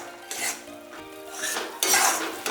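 Spoon scraping and clinking against a pan while rajgira flour is stirred and roasted, a few loud metallic scrapes and knocks separated by brief quieter gaps.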